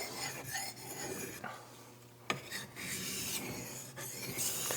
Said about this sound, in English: Switching to full length passes now, since I've pretty much removed all the scratches.